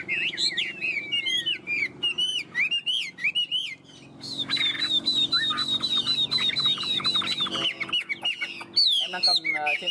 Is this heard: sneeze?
no